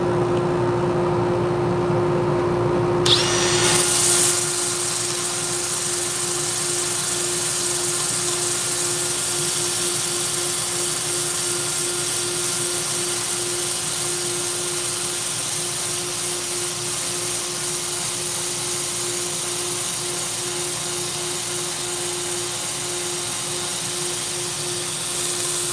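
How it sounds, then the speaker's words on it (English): A power sander works wood in a woodworking shop, running as a loud, steady whine and hum after a brief start, continuous for about twenty seconds with no talk. "we're done sanding with that grit"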